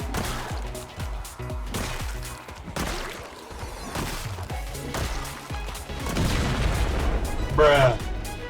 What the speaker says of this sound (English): there was an explosion while killing the zombies